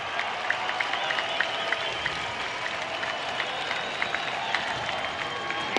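Crowd at Angel Stadium, the Big A, applauding and cheering during a Tigers versus Angels baseball game, a steady wash of clapping with scattered shouts and whistles, at moderate level from a distance.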